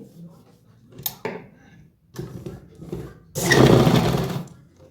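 A sewing machine stitches the elastic waistband of palazzo pants, running in short bursts before one long, loud continuous run near the end, with quieter handling noises between.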